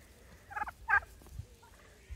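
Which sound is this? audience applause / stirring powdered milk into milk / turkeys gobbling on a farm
turkeys gobbling on a farm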